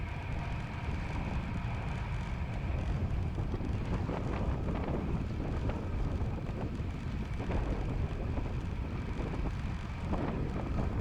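Wind roars across the microphone of a cyclist riding at speed, a constant heavy low rumble and rush of air that never lets up.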